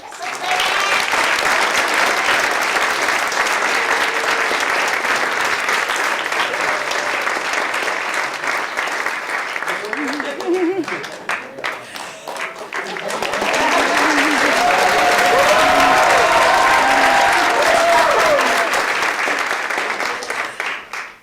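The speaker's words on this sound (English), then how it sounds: "by that applause, you can understand how special Hanak is." Sustained audience applause at a 2022 Crest graduation ceremony on Mercer Island, a loud, dense clapping crowd that dips briefly midway before swelling again, with faint voices mixed in.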